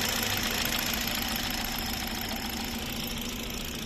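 A 2015 Hyundai Solaris 1.4 with automatic transmission idles nearby: a steady, even engine hum with a faint knocking texture, running unbroken with no talk.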